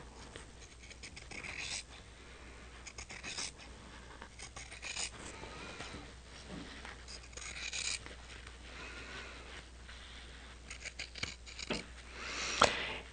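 Scissors snip through quilt border fabric in short repeated cuts, fairly close and quiet, with a few louder snips near the end and no talking.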